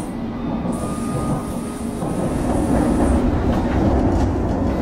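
A London Underground train runs between stations, with a loud, steady rumble and clatter of wheels on track and a high squeal that fades out partway through.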